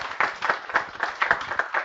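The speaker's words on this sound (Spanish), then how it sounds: "Un aplauso." A small audience at a monthly session claps briefly and quietly, with a steady rhythm of distinct, separate claps rather than a full ovation.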